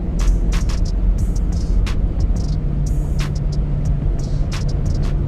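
A Dodge Magnum RT V8 running in 4-cylinder mode makes a steady, loud, low drone that continues unbroken, with sharp ticking clicks scattered over it and no voices.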